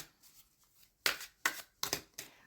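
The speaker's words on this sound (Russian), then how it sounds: "И мы достанем 3 карты" Tarot cards drawn one at a time from a deck, giving four crisp papery slides and flicks in quick succession, close and clear after a quiet start, with no talk.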